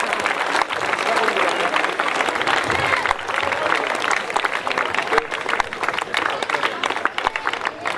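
A crowd applauds at a shot put event, dense continuous clapping that starts after a brief moment and holds strong for about seven seconds, with voices mixed in.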